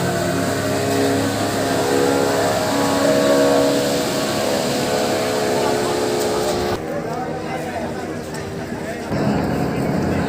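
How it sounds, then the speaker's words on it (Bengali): Speedboat engine leaving the Aricha ferry ghat, a steady loud motor drone with revving under crowd chatter and ambient noise, dropping briefly near the end before resuming. "এই মুহূর্তে কাজিরাটের উদ্দেশ্যে একটি স্পিড বোট চলে গেল"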